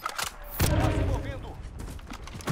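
Gunfire in Call of Duty Warzone: a dense burst of shots crackles through the middle of the clip while a voice chatters over the game sound.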